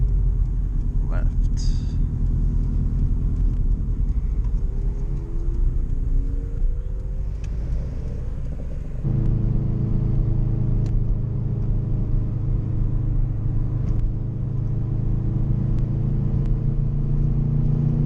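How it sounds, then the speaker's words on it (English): Car engine idling and cruising at low RPM with small exhaust pops on lift-off, a steady rumble throughout that thickens after the midpoint, with faint crackles near the start and people talking over it inside the car. "Every time I let off the gas, a little pop. Even at the low RPM."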